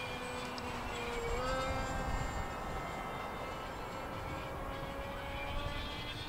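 A light aircraft engine drones steadily in flight, a constant close hum with a faint whining tone that shifts slightly in pitch, alone without talk.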